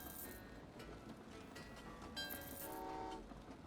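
Quiet rumble of trains rolling along in the puzzle game Train Valley 2, with faint tonal toots and chimes rising over the steady rail noise, all soft and distant.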